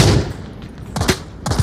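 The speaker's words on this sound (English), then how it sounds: "He's shooting at us." Gunfire in the VR shooter Onward, a few sharp shots in two quick bursts over a low rumbling battle backdrop, fairly close and loud, with no talk.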